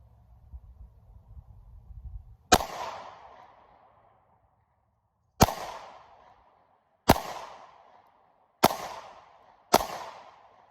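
Five sharp gunshots from a Smith & Wesson M&P Shield pistol at a range, one early then four spaced at uneven intervals, each a loud crack with a short decay, after a brief low rumble.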